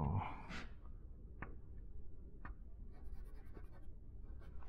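Chalk or marker writing equations on a board during a university lecture, a soft scratchy stroke near the start followed by a few sparse faint taps and scratches over low room noise, with no talking.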